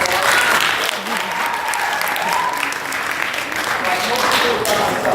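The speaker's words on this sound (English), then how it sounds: "Can we give them a round of applause?" An audience at a dance class event breaks into sustained, loud applause that fills the whole stretch, dense and steady, with a few voices faintly underneath.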